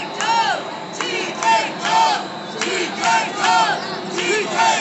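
Wrestling crowd at a Total Khaos Wrestling death match show, cheering and shouting in loud repeated swells, with whoops and battle-cry yells rising every second or so over steady crowd noise.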